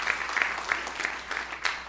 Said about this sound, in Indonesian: Tepuk tangan yang paling meriah buat Yesus.